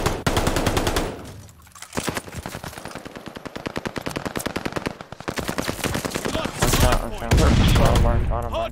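A strafing run in a Call of Duty hardpoint match unleashes long, rapid rattling bursts of automatic gunfire, loud and dense, followed by heavier booming impacts near the end.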